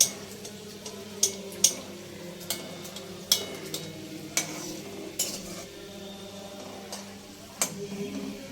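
A vegetarian mughlai paratha fries on a medium flame in a pan, with a low, steady sizzle and scattered sharp ticks and spatula taps, close and moderately quiet with no talk.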